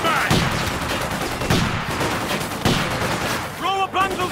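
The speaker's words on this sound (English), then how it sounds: "I can hear the guns firing." Guns fire in a Company of Heroes 2 battle, with bursts of gunfire and sharp cracks at irregular intervals over continuous combat noise, and shouting voices near the end.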